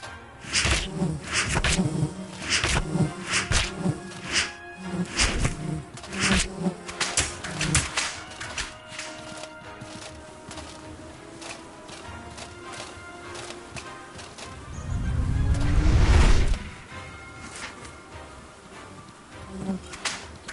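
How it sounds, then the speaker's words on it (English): Bees buzz in the video game Outward, a busy insect drone with rapid flickering wingbeats and clip-clop-like steps, moderately loud, swelling into a heavier low rumble near the end. "Oh crap, they have like these bees or something."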